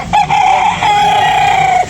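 A rooster crows once, loud and close, a long sustained cock-a-doodle-doo that carries for nearly two seconds with faint farmyard noise beneath it.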